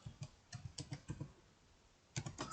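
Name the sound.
typing a prompt into ChatGPT on computer keyboard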